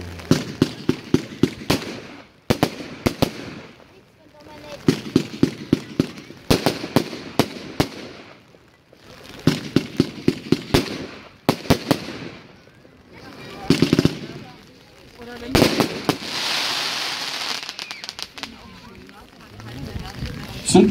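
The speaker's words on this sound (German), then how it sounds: "Fünf imposante Fünfersalven mit Goldweiden und roten Blinksternen sowie blaue" Firework battery salvos with gold willows, red and blue strobing stars and crackling effects at a musical fireworks display in Stein near Nürnberg: repeated loud bursts of rapid shots in groups, followed by dense sizzling crackle, with brief gaps between salvos.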